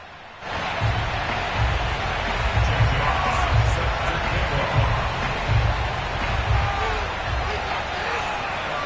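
Stadium crowd at FedEx Field in an EA Sports NFL video game, a steady roaring din from many fans filling the whole stretch at constant loudness, with a commentator's voice running over it.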